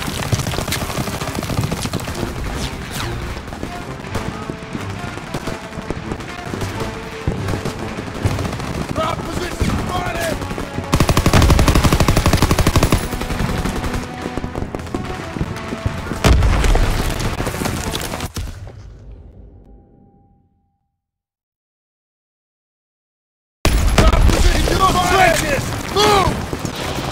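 Heavy gunfire and grenade blasts in a Call of Duty WW2 battle, dense rapid shots and loud booms layered with shouting soldiers, then a sudden drop to silence before the firing bursts back in.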